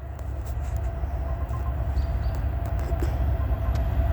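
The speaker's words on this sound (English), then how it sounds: "The train's coming right now by." A freight train on the Bessemer & Lake Erie line passes close by at night, a steady heavy low rumble with faint metallic rattles and clanks over its full length.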